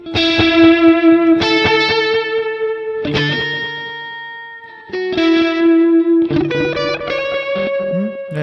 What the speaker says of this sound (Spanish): Un reverb tipo spring.